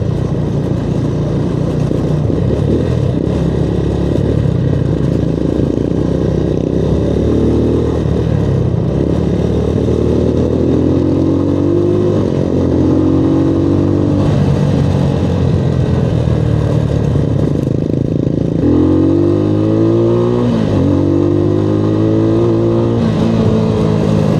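Suzuki Raider and Sniper 150 motorcycles ride together toward a campground, giving a loud, continuous engine drone close by, with revs rising and falling throughout and no talking.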